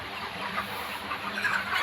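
Farm chickens raised as a side business cluck softly in the background, with scattered low calls over a steady noisy ambience and no talk.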